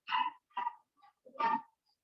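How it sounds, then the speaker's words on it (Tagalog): A dog barks faintly in the background during a midweek church service, three short sharp yips spaced across a couple of seconds. "Kainong aso yun?"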